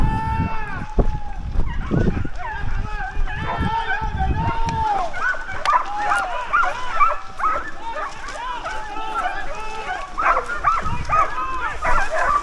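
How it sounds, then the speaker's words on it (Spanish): Hunting dogs bark and yelp continuously during a deer drive in Extremadura, a dense overlapping pack chorus with high excited cries and constant rustling movement, with a voice talking over them. "De repente, una violenta ladra resonó frente a nosotros."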